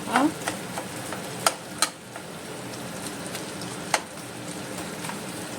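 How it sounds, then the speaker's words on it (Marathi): Onions frying in a pan until browned give a soft, continuous sizzle, punctuated by a few sharp scrapes and taps as they are stirred. "आनी हो बरोसो ब्रावन जाव पर्यंत ताका भाजून घेया"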